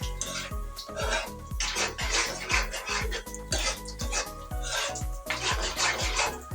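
A spoon scrapes and stirs a pointed gourd (potol) mash in a cooking pan, with repeated rough strokes heard under background music.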